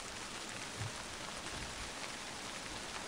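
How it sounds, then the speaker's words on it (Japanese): Steady rain falls through a misty forest in a horror video game, a dense, even hiss that holds unbroken for the whole stretch with no voices over it. "雨ひどくなってきたな"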